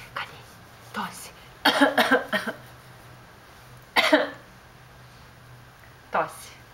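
A baby's coughs in a quiet room: a short cough, then a quick cluster of four or five, another burst, and a final single cough, close and moderately loud, with gaps of near silence between.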